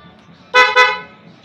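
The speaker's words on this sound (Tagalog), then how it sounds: "Stock busina." Stock dual horn on a Honda RS 125 Fi motorcycle, wired directly to the battery, gives two loud, close honks in quick succession over quiet background hum.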